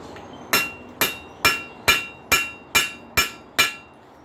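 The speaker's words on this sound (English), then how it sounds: "tighten that rivet up a little bit" A hammer strikes a hot rivet on hoof nipper spike head tongs to tighten it: eight sharp, ringing metallic blows at an even, quick rhythm, close and loud, with no voices.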